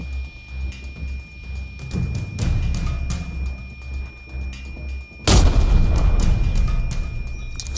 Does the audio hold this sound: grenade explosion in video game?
yes